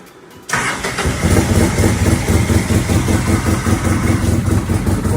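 A Polaris RZR 800 fitted with an RFID push-start system cranks briefly and catches, then settles into a loud, steady, throbbing idle that carries on close by with no talking.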